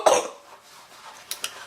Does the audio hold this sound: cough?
yes